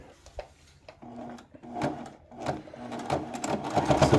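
Sewing machine stitching half-inch hems on a tabard, running in short bursts that stop and start, then building to a steadier, louder run near the end.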